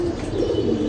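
Pigeons in a rooftop loft coo steadily at close range, a soft continuous murmur of several birds with no talk over it.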